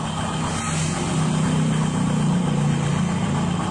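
A motorbike with a worn rear CVT pulley clutch idles steadily and a little roughly close by, a continuous low engine rumble with no talk.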